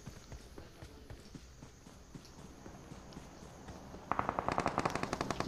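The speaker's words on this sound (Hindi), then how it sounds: "आगे की तरफ फायर हुआ।" Gunfire in the battle royale game BGMI, a faint patter of distant shots and footsteps giving way to a louder, rapid burst of automatic fire in the last second and a half, with no talking.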